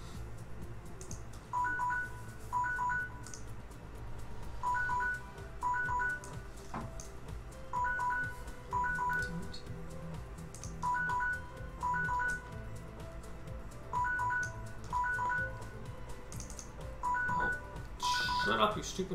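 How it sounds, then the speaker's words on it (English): A phone rings in repeated electronic double bursts, a regular patterned ringtone that comes in pairs every few seconds under ongoing talk and background noise. "Shut up, you stupid phone."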